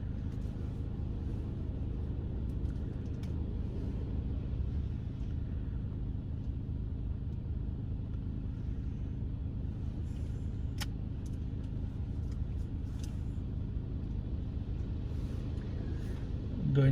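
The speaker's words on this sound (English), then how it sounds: "look how the machine is washing." Inside a drive-through automatic car wash, the machine works over a car with a steady low rumbling whir and scattered faint knocks, and nobody speaks.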